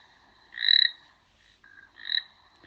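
A toad croaks as a sound effect in two drawn-out, buzzing calls with a short pause between them, loud and close over a quiet background.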